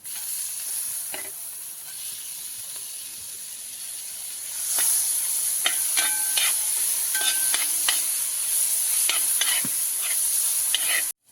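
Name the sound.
onion, green chilli and tomato sautéing in a pan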